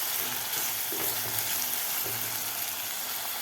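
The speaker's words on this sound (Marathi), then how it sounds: "टोमॅटो सुद्धा आपल्याला चांगलं सॉफ्ट होईपर्यंत परतून घ्यायचं आहे." Chopped tomato sautés in a hot pan for a dal batti meal, a continuous close sizzle broken by a couple of scraping stirs, with no voices over it.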